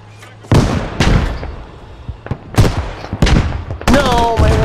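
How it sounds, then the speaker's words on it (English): Repeated loud blasts from an SPG exploding in the video game Squad, four or five sharp booming bursts with ringing tails and a voice briefly audible between them. "Oh, it's exploding!"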